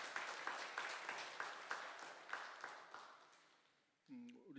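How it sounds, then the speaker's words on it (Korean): A church congregation at a Sunday worship service claps together in a fairly rhythmic, full-room round of applause that gradually dies away, then a voice starts speaking close by. "하나님께 영광의 박수 드리겠습니다"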